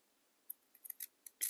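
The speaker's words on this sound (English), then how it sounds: "I'm going to take my fabric scissors" Fabric scissors snip through knit t-shirt fabric while trimming a sewn V-neck, giving several crisp close cuts in an irregular sequence after a short quiet start, with the last cut loudest.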